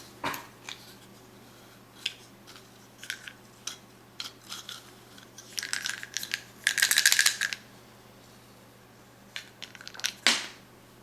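Skewb-style puzzle cube pieces snapping and clicking together during assembly, a series of sharp, close plastic clicks and rattles spread irregularly, with a denser crunchy burst midway and another near the end, no talking.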